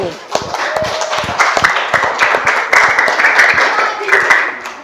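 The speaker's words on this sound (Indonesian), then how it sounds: "kita berikan aplaus dulu dari kelompok auditori" A classroom audience claps in a burst of applause, many hands beating rapidly and fairly close, building and holding for several seconds with some voices mixed in.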